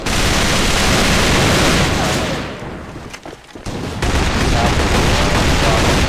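Skorpion EVO submachine gun firing in a video game, dense loud rapid bursts filling the clip, briefly dropping away in the middle before resuming.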